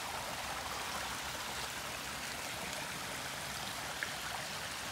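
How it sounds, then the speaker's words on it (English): A small forest stream flows with a steady, even babble and trickle, close and continuous with no voices or other sounds over it. "There's actually a stream down here."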